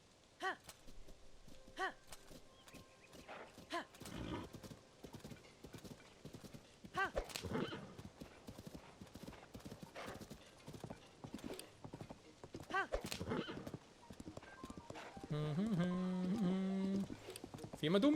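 Hooves clip-clop in uneven bursts as a horse moves about in Zelda: Tears of the Kingdom, ending with a loud whinny near the close; game music and sounds sit underneath, and someone talks over parts of it.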